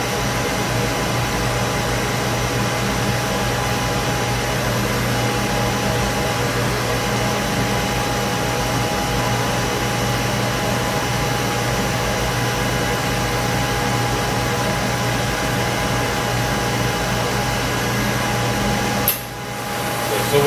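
Steam sterilizer autoclave in its vacuum pulse phase, a continuous loud mechanical hum with pump drone and steady hiss, ending in a short abrupt clunk.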